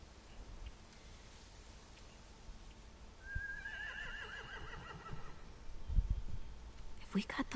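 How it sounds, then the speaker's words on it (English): A horse whinnies clearly at mid-distance in a video game, a rising then wavering neigh, over a steady background rumble with faint rustling and a thump afterward. "Scare the horses, too."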